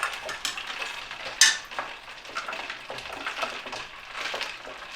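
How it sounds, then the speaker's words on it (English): A spoon stirs Grinch punch with ice, clinking and swirling for several seconds, with one bright knock against the container near the start and a wet, rustling churn throughout. No speech. "Okay, so now you're going to want to give this a nice stir."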